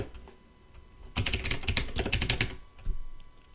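Quick burst of typing on a computer keyboard while writing regular text for an HTML page, a dense cluster of crisp clicking keystrokes lasting about a second and a half, close and clear, followed by a few stray taps.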